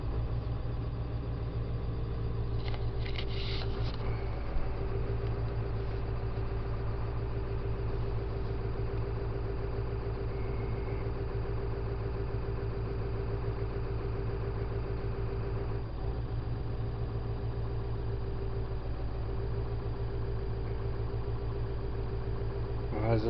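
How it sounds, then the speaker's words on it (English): A Ford F250 engine idles steadily during an injector cylinder test, holding a continuous low rumble with a slight rise in idle speed as injectors cut out one at a time, heard up close for the whole stretch. "As this thing cycles through its test, it shuts down the injectors one at a time. It idles up like it's doing right now"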